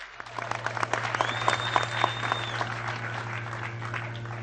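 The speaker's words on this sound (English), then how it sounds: "I think we can give him a bigger round of applause" A crowd applauds after a speech by a Kiambu governor, a dense, steady patter of many hands with a few louder claps standing out, heard from some distance over a constant low hum of a public-address system.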